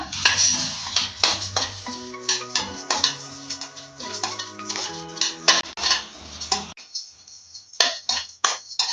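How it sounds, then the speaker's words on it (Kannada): Pumpkin and watermelon seeds roasting in a spoonful of ghee in a pan, with dense clattering and scraping of a spoon against the metal pan, steady rhythmic stirring knocks and light metallic pings, close and fairly loud with no talking. "ಕುಂಬಳಕಾಯಿ ಬೀಜ ಮತ್ತು ಕಲ್ಲಂಗಡಿ ಹಣ್ಣಿನ ಬೀಜನ ಒಟ್ಟಿಗೆ ಹಾಕೊಂಡು ಹುರ್ಕೊಳ್ಳೋಣ"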